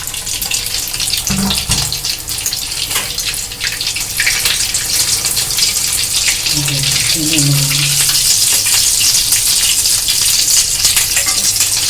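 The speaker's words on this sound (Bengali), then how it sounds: "আমি এখানে একসঙ্গে দুটো করে ভাজছি" Loud, continuous sizzling and crackling of chicken bread rolls frying two at a time in hot oil, close up, with faint bits of voice underneath.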